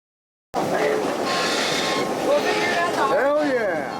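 A passenger train on a heritage railroad line rolls steadily along the track with a loud, continuous rumble, its wheels squealing and ringing near the end while a voice talks over the noise.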